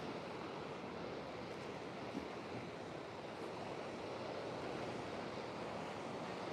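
Ocean waves at Playa Paraíso wash in as a continuous broad rushing hiss, faint and distant, with some wind noise on the microphone.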